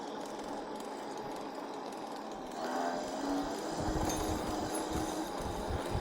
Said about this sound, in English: Something's rubbing in that front brake.